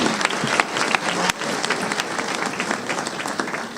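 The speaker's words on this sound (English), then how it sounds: "Please join me in applauding these seniors for their hard work." A high school graduation audience applauds the Class of 2022 seniors with a sustained, dense wash of clapping from a large crowd that fills the whole stretch evenly.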